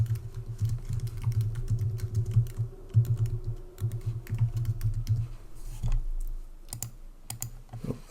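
Typing on a computer keyboard while renaming a model variable, a steady run of quick clicky keystrokes with brief pauses, close and fairly quiet over a low hum.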